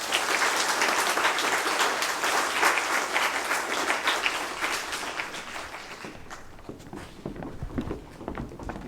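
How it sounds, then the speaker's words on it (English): Audience applause for prize winners at a Grade 4 school prize-giving ceremony: steady, dense clapping from a crowd that thins and fades toward the end, with scattered individual claps lingering. "let's give them a round of applause"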